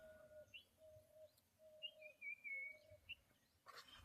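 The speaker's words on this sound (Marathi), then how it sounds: "ऐकू शकता पक्ष्यांचा आवाज वगैरे" Birds chirp and whistle in a quiet village in the Sahyadri hills, with clear, thin, drawn-out notes repeated several times over a hushed, faintly rustling background.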